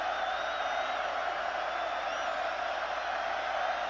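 A college football stadium crowd at Colorado vs Texas A&M in 2009 roars in a steady, sustained wash of cheering with whistles, heard from a distance throughout.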